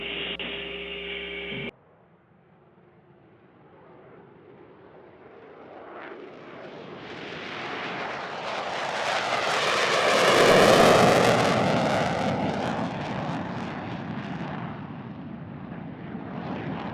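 NASA's X-59 supersonic experimental aircraft takes off, a deep jet roar swelling over several seconds to a loud peak and then holding steady as it climbs away; a brief radio voice is heard at the start.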